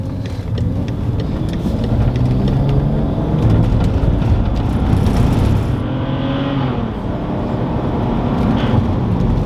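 A BMW accelerating hard from a standstill to 60 mph, its engine note loud and continuous with a rising pitch as it pulls through the gears, with wind and road roar filling in behind it.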